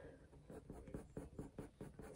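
A pencil or pen draws on paper close up, giving soft, quiet scratching strokes in an uneven rhythm of short bursts.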